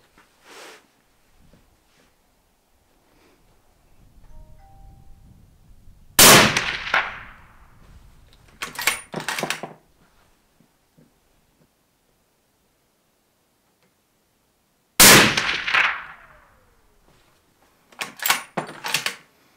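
A hunting rifle fires Barnes TSX 180-grain ammunition at a target range. Two sharp, loud reports ring out several seconds apart, each followed by a short decaying echo and some nearby clatter.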